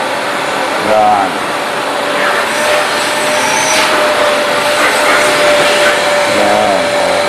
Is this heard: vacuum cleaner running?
yes